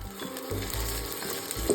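Potatoes sizzle in hot oil, a steady crackling fry with a few scraping stirs, close up and fairly loud.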